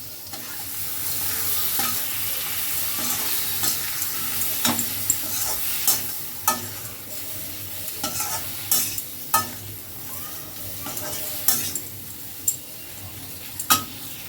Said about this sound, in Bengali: তিরিশ সেকেন্ড মতো টমেটোটাকে ফ্রাই করে